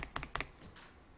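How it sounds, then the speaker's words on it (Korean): A single keystroke of Enter on a computer keyboard during a word-processing lesson, with a few quick soft clicks close by, quiet and alone with no talk. "키보드에서 엔터 한번 쳐볼게요"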